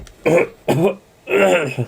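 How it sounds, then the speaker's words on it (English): Three close, rough throat clearings in quick succession, each a short harsh rasp separated by brief silences. "let me clear my throat."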